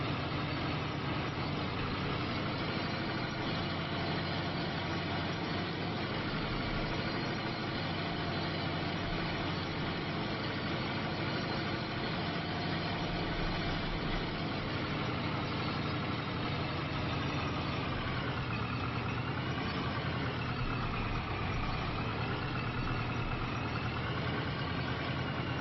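Tractor engine idling in Farming Simulator 25, a steady, even mechanical rumble holding for a long stretch with no talk and only a slight wavering in tone near the end.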